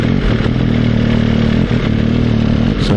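A motorcycle engine changing down through the gears on a dry country road, loud steady engine drone with rev blips and shifts, close up and continuous.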